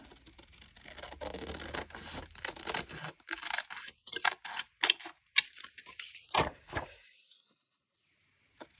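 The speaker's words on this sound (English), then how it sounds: "I think I'll use some scissors to cut this" Scissors snip paper for a junk journal in a run of short, crisp, close cuts with rustling between them, fading to quiet at the end.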